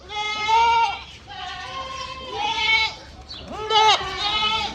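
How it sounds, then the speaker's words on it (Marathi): Goats bleating, several long wavering calls in a row, loud and close, with breaks between them. "1 बकरा पळाला आमचा"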